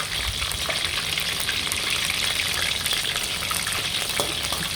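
Pork soft bones coated in batter deep-frying in hot oil, a steady dense sizzle and crackle that holds loud and even throughout with no talking.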